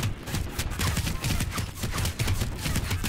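Rapid gunfire aimed at the player in the video game Planetside 2, a dense run of sharp repeated shots with a fast irregular rhythm, loud and close, with no talk over it.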